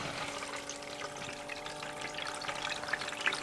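A water pump runs while water pours steadily down a gold sluice, giving an even, continuous rushing and splashing wash at moderate level throughout. No voices are heard.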